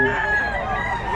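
A golden boy fighting cock crows loudly and close at a rooster market in Bocaue, one strained, sustained call that fills the whole moment, with faint voices in the background.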